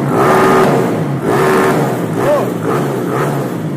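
A methanol-fuelled Honda CB 300 motorcycle engine revs loudly and close up in repeated rising surges, each pull followed by a short drop, in a series of accelerations.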